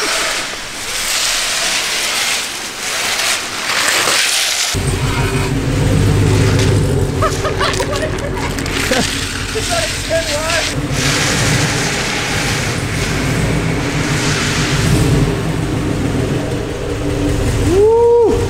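A pickup truck with a lift kit starts up and idles inside a garage, its engine rumbling loud and steady after an abrupt start, with scattered clunks and a faint squeal near the end.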